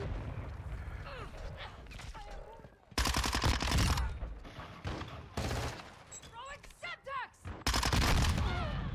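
Gunfire bursts out in a Call of Duty MW2 match, with fast rattling volleys and sharp shots in several loud bursts, mixed with in-game sound effects and a person talking quietly between the shots.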